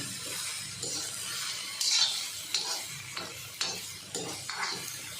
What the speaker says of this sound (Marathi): आणि थोडे ना डाग पडेपर्यंत भाजून घ्यायचं गवारला